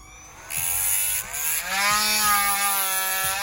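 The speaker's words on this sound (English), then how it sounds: "you wanna take your sanding bit" A rotary tool with a sanding bit grinds down a screw on a Mafex action-figure peg. It makes a loud, continuous high motor whine whose pitch climbs and then holds steady, heard alone.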